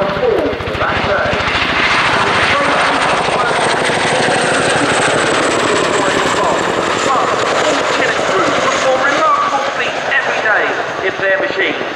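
RAF CH-47 HC2 Chinook twin-rotor helicopter flying a solo display at an airshow, a loud, steady rotor roar filling the whole stretch, with a public-address announcer talking over it.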